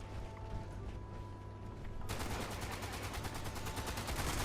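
Rapid automatic gunfire in the post-apocalyptic video game Fallout 76, bursting in abruptly partway through as a dense, fast rattle of shots that continues steadily after a quieter stretch of background ambience.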